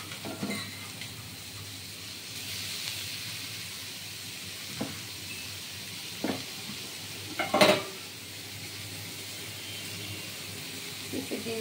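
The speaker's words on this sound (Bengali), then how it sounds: "পেঁপেটা এবার আস্তে আস্তে ভাজা হবে" Papaya frying in a pan with green chillies gives off a soft continuous sizzle, broken by occasional scrapes and a louder clink as it is stirred; quiet and close, with no speech.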